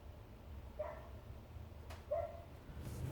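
A dog barks indoors from another room, two or three short, faint barks spaced apart over a quiet background hum, with no talking.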